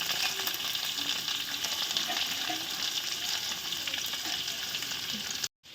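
Papri and capsicum fry in oil with a dried red chilli, giving a dense, even, close sizzle that holds steady throughout before cutting off abruptly near the end.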